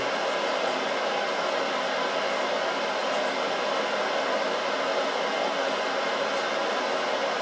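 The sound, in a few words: Grizzly G0752 running during test run, slowing down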